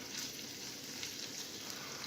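Onions frying in a pan give a faint, even crackling sizzle, a steady low hiss heard alone with no voices.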